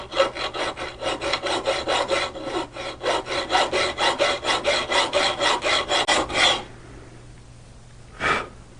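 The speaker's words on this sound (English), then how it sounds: "all you really need is a hacksaw" A hacksaw cuts a groove into a tamper-proof carburetor screw on a Brozz 250 Chinese motorcycle, making fast, close, rhythmic rasping strokes for several seconds, then stopping, with one final stroke after a pause.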